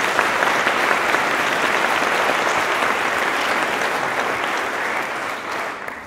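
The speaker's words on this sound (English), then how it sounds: "Let's give Paul a round of applause." An audience at a Jewish Federation of Greater Toledo event gives sustained applause, a full, even wash of many hands clapping that holds steady and tapers off slightly at the end.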